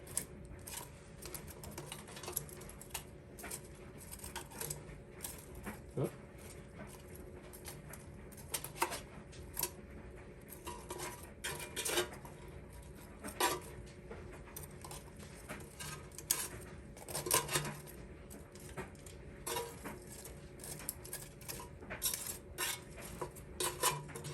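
Lemon pepper chicken wings being flipped over in an air fryer basket: scattered light clinks, clatters and scrapes at close range, irregular and fairly quiet, with no talking.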